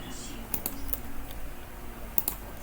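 Light tapping on a computer keyboard, a few quiet scattered keystrokes and clicks over a soft room hum, close but faint.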